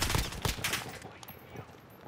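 Call of Duty Warzone gunfire on Rebirth Island: a quick burst of loud, close shots that then trails off into quieter scattered fire.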